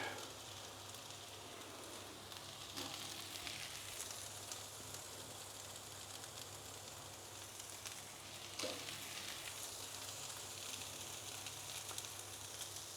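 Faint, steady sizzling of tofu frying in a pan in Siem Reap, Cambodia, a continuous soft crackle with a couple of slightly louder pops.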